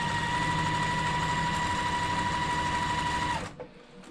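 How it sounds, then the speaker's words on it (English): A sewing machine stitches a quilt block seam with a steady, close motor whir and fast needle chatter that runs evenly for over three seconds, then stops abruptly. "And so now I'm going to sew this side."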